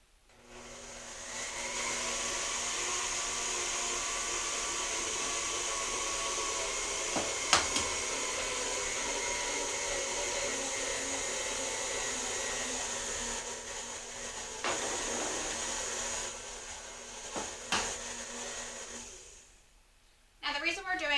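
An electric mixer whirs on low through cupcake batter for fruity pebbles cupcakes, a steady mid-level motor drone holding for most of the stretch before cutting off, with a few bumps and clinks and brief talk at the end.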